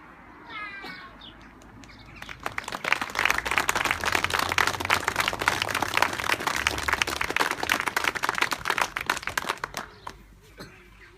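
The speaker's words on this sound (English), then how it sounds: "Give a round of applause when we hand it up" A crowd gives a long round of hand-clapping applause at the Camross GAA 1916-2016 plaque unveiling. It swells in after a quiet start, holds loud and dense for about seven seconds, then fades out.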